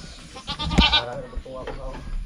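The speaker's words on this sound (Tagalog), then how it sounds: "Kasi may mga kambing naman tayo dito." Goats bleating on a rural farm plot, several wavering calls overlapping close by amid background voices and farmyard noise.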